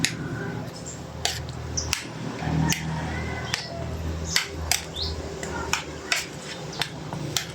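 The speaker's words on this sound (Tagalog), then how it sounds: "At haluin lang natin ng konti." Sugar being stirred into a mixture in a pot, a spoon scraping and knocking against the metal in irregular sharp clicks, close and moderately loud, with faint background sounds between.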